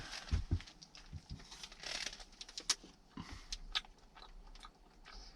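Someone chewing and biting into a filled pastry, soft moist crunches and mouth sounds in short irregular bursts, close and fairly quiet.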